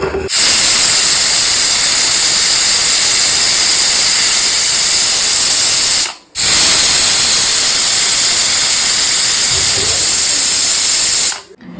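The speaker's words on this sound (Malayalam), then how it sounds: "ഇനിയിപ്പോൾ കുക്കർ ക്ലോസ് ചെയ്തിട്ട് 2 വിസിലെടുക്കും" A pressure cooker cooking Kerala-style chicken biryani releases steam in loud, sustained hissing whistles, two long blasts separated by a brief pause, close and intense.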